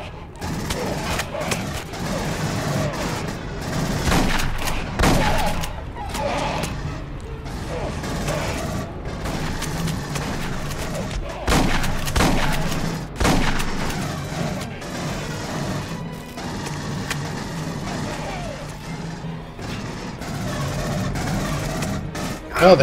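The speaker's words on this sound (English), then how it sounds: "Oh, they're shooting them all down there" Gunfire and combat in Aliens: Colonial Marines on PS3, with dense bursts of shooting, crashes and mechanical clatter running loud and continuous, while a player talks over the action.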